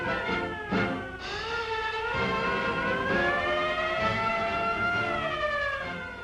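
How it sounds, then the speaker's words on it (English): French warships' battle-station sirens wailing in 1940, a loud, rising and sustained mechanical howl that holds steady with slight pitch drifts, layered over a low background rumble and heard without any voices. "French seamen are called to battle stations by the wail of sirens."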